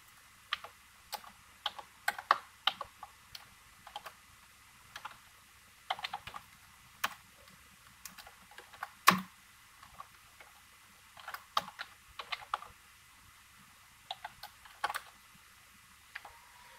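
Rapid, irregular typing on a computer keyboard while writing a while-loop condition in code, heard as quiet, close clicks alone with brief pauses between bursts.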